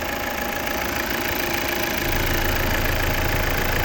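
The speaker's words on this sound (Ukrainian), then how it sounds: "Ось робота двигуна." A 2015 Volvo XC60 2.0 D4 diesel engine idles close by with a steady, slightly knocking rumble that grows a little heavier partway through.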